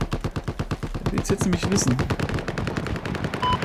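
Rapid, sustained automatic gunfire in Battlefield 4 rattles in a steady fast rhythm, loud and close, with someone talking over the shooting.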